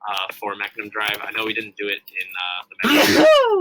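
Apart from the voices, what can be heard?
sneeze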